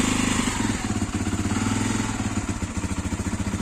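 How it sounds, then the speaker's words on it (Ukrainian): A Viper MX 200 motorcycle engine running on medium choke, loud and close, with a steady pulsing idle throb and a slightly uneven rhythm throughout. "Коротше, на середньому підсосі працює."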